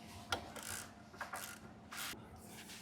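Short rasping ratchet clicks while tightening stainless steel exhaust bolts on a Royal Enfield Himalayan 450 motorcycle, a few brief bursts of quiet close-up clicking with pauses between.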